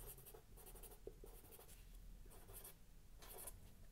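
Pen or marker writing during a lecture on a Hall bar with top gates, giving a few bursts of scratchy strokes close by over a steady low hum, with no voices.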